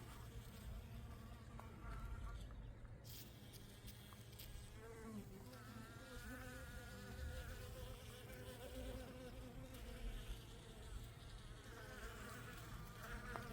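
Bees buzz continuously while working hellebore flowers, a steady close drone with wingbeat pitch shifting as individual insects move about, held at an even level throughout with no talk.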